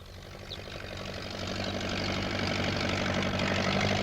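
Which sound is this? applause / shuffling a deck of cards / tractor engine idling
tractor engine idling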